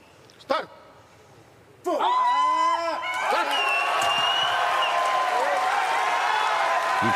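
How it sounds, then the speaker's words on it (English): A powerlifting crowd at the Paris 2024 Paralympics erupts into loud cheering, whistles and applause after a quiet lead-in with a brief shout, the roar sustained and close. "Cheers from the crowd"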